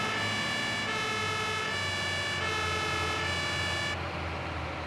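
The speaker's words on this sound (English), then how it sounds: "I'll put siren on, clear through," An emergency vehicle siren wails continuously in the Emergency 112 game, a loud tonal horn cycling in a repeating pattern about every 0.8 seconds over steady engine rumble, then dropping off near the end.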